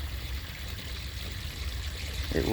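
Water pours steadily into a two-gallon garden pot to dilute urine as fertilizer, a continuous close trickling stream with no voices.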